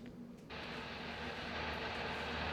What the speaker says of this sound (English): This is the airplane that flew the cameraman from Liberia to Nebraska yesterday morning.